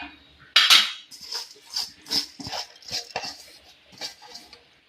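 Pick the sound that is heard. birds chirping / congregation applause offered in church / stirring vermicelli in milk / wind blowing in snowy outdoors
stirring vermicelli in milk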